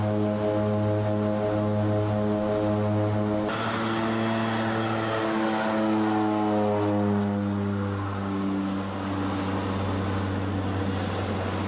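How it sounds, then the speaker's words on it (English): A seaplane's propeller engine drones steadily overhead in the Maldives, a continuous tonal hum with a slight shift in pitch as it passes, heard alone without speech. "the seaplane is the ideal surf mobile to check the nearby spots"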